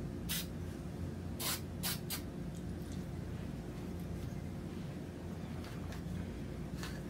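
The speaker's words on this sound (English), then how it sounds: "I'll just spray a little bit inside there too" Aerosol can of G96 gun lubricant sprayed inside the receiver of a Sig MPX, giving several short hissing bursts over a steady low background rumble.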